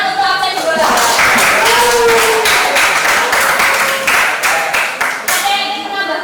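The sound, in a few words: classroom applause for a student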